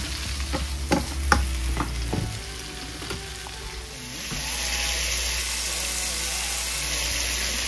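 Crushed tomatoes sauté in a hot pan, with a close, steady sizzle and a run of sharp utensil taps and scrapes early on before the frying settles into an even hiss.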